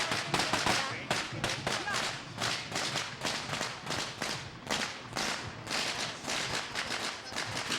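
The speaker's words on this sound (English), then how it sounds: "Now you hear the sound of firecrackers again" A rapid, dense string of firecrackers crackling and popping nonstop, loud and close, with sharp bursts packed tightly together throughout, at the Vancouver Chinatown Parade.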